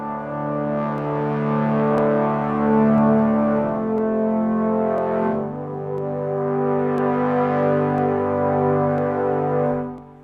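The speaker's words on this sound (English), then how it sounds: "Let's check out the low brass ensemble here." Low brass ensemble from the EastWest Hollywood Fantasy Orchestra sample library holds sustained chords together, rich and resonant, swelling and shifting slowly between harmonies.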